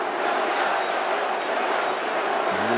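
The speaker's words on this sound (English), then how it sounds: "Listen at the crowd now getting behind their team" A crowd at a men's water polo match between Montenegro and Hungary roars steadily and loudly, cheering their team on as a continuous wash of voices.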